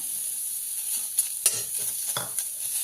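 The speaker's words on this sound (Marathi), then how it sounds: "सर्वप्रथम कांदा आपण चांगला भाजून घेऊया" Onion roasting in oil in a pan, a steady close sizzle with occasional sharper crackles and scrapes of stirring.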